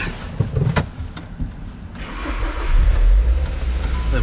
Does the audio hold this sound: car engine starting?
yes